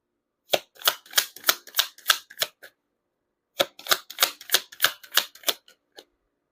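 Two bursts of rapid, crisp card snaps and flicks as a tarot deck is shuffled and cards are pulled, each burst lasting about two seconds with a quiet pause between, close and fairly soft.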